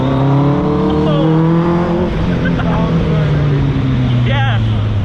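A Westfield Seven sports car accelerating hard from inside the cabin, a loud, continuous engine roar rising and falling in pitch through gear changes, dominating the whole stretch.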